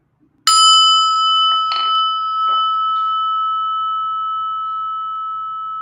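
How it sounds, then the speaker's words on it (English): A single prayer bell struck once, ringing out clear and bright, then a long sustained tone slowly fading with a few faint shimmering overtones. "Listen to the prayer bell."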